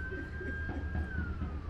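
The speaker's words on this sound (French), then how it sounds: "t'entends les sirènes, ils viennent te chercher" A faint wailing siren drifts slowly in pitch over a low rumble of traffic in Algeria, distant and steady for a brief moment.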